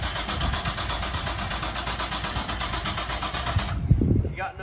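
A car engine turns over and catches with a loud, sustained rough churn before a burnout, then cuts off near the end as a voice speaks briefly.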